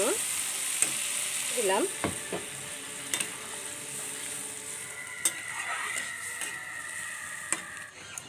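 Water poured into a frying flour mixture brings a steady hissing sizzle with metallic scrapes and clicks of stirring, while a voice speaks briefly over it.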